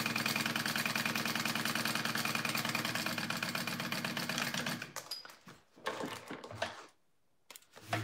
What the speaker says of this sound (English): Sorry, I forgot to top stitch this real quick.